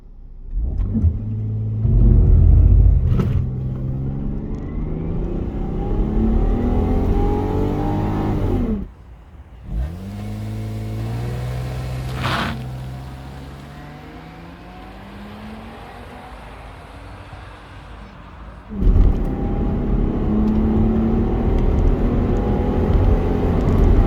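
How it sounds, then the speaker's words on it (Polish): A stock Lexus IS200 engine revs hard in bursts during a 0-100 km/h acceleration test, drops, then pulls away accelerating through the gears, its pitch rising and falling before a final loud surge. "spróbuję go wkręcić na obroty i wtedy ruszam"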